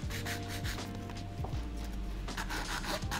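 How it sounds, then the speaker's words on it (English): Steady abrasive rubbing of a nail file shaping a fingernail into a tapered square, close and continuous, with a low background hum underneath. "Now I'll finish filing"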